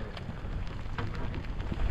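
Rain falls on a charter fishing boat out at sea during a striped bass trip, a steady close patter and hiss with scattered sharper drop ticks and no voices.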